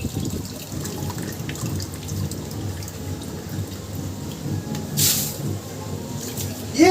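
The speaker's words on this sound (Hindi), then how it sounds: "इन द मीन टाइम हम ऑटो रिफिल को चालू कर देते हैं सो दैट पानी यहां से आता रहे।" Water pours steadily from an auto refill into a carved marine aquarium, a continuous close splashing flow with one brief hiss partway through.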